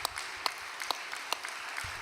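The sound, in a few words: audience applause for a sister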